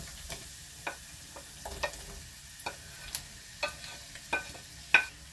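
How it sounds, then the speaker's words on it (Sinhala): Onions stirred and frying in a pot with garlic and ginger: a soft low sizzle beneath a run of sharp spoon clicks and scrapes against the pot, spaced roughly every half second, close by with no talking. "රට ලුණු ටික දාගෙන මේ විදිහට හොඳට කලවම් කරගෙන අපි ලුණු ටික රන්වන් වාට වෙනකම් හොඳට ටෙම්පරේචර් කරගමු"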